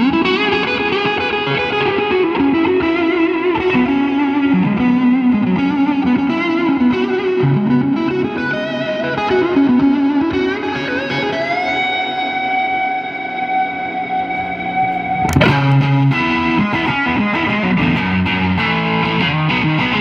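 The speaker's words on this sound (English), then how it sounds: "we're out with the 1954 first year Fender Stratocaster, and we're also going through a Fender Super Reverb" A 1954 Fender Stratocaster played on the neck pickup through a Fender Super Reverb amplifier, warm clean notes and chords ringing out with sustain, loud and up close, no talking.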